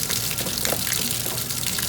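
Hot water gushes from a tap into a sink being half filled for dish soap, a steady close rushing splash for two seconds with no talking.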